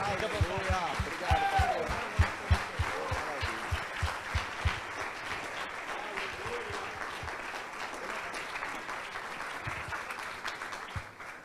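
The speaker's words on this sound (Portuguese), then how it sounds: "Aplauda Jesus com alegria." A church congregation applauds with joy, a steady wash of rhythmic clapping that carries on throughout, with voices audible over the applause.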